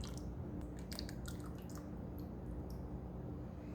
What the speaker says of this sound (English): we'll pour the lye over the stick blender to help avoid splashing and air bubbles